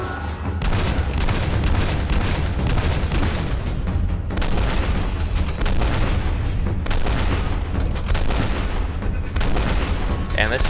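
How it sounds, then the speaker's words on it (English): Repeating cannon firing in the shooter game F.E.A.R. Extraction Point, a dense, loud barrage of booming blasts and bursts that continues almost without pause through a long battle. "And this is why they call it a repeating cannon."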